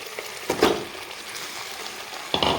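Pieces of fried plantain dropped into spluttering hot oil with a masala base: a bright burst of hissing sizzle near the start, a softer steady crackle, then another loud sizzle at the end.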